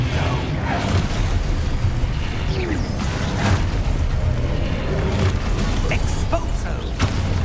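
Confringo blasting curse explosions in Hogwarts Legacy, several booming bursts and whooshes scattered over a continuous loud rumble of combat effects, with shouted spell calls mixed in.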